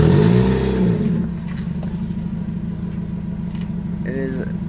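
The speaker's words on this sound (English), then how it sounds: "The muffler is just fucking blown out, so the car just sounds like this." A car engine with a blown-out muffler idles with a loud, rough, rattling exhaust drone, steady and close, after a brief louder rev at the start.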